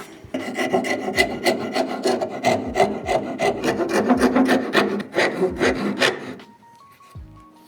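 Hand file rasping across MDF in quick repeated strokes, loud and close, a dense run of scraping passes that stops near the end, leaving a faint hum and a light knock.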